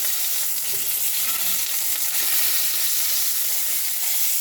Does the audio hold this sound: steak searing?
yes